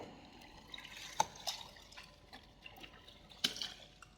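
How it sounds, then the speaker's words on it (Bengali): A nightie and bed sheets are hand-washed in water, with scattered drips and small splashes, a few sharper sloshes standing out against quiet background, no talking. "এই যে নাইটিটা ধুচ্ছে যেটা দিদুন সকালে পড়েছিল"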